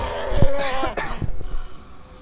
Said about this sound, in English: I had to clear my throat there.